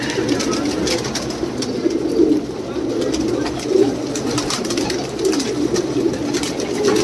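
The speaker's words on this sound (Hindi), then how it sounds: "कुछ मद्रासी कबूतर भी है" Madrasi pigeons coo steadily in low, throaty murmurs, overlapping at close range with a soft background hum and no speech.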